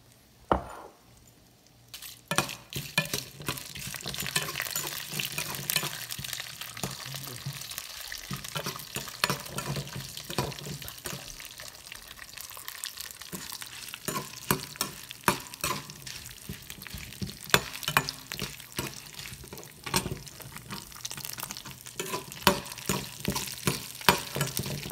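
Tempering sizzling in a pan while making tomato curd chutney, a steady crackling fry with stirring and clinks of a utensil, close and continuous throughout.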